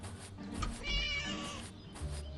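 A cat meows in the Scary Teacher video game, a drawn-out wavering cry over steady in-game background sound, with no talking.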